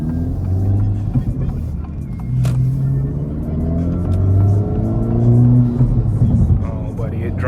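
A 2024 Acura Integra Type S with a manual gearbox drives along, its engine a steady, close rumble with rising and falling revs throughout, heard from inside the cabin.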